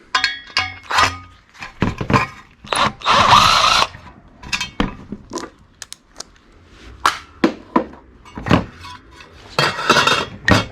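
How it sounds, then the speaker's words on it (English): Small fan motors being dismantled for scrap, with loud, close metallic clinks, clatters and rattles of parts and tools in irregular bursts, including a short buzzing whir partway through. "we will just be taking apart these small motors, these small fan motors"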